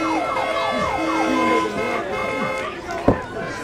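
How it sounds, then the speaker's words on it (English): An alarm siren wails through a wrestling arena, a loud rising and falling electronic tone that repeats several times, with a sharp thud near the end. "alarms going off all around the house here tonight"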